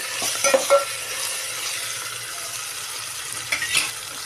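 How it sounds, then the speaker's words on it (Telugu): Chopped ginger fries quietly in a pan for a mutton dish. A soft sizzle runs throughout, broken by a few spoon stirs and light clinks near the start and near the end. No one talks. "ఇప్పుడైతే అల్లం వేసాను అల్లం అయితే పచ్చివాసన పోయే వరకు వేయించాలి"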